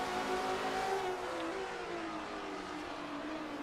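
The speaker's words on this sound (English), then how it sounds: "Oh, that BMW is gonna get sideways." A BMW race car's engine pulls hard in a GT race, a steady droning roar with a sustained gear whine, mid-distance and unbroken, with no talk.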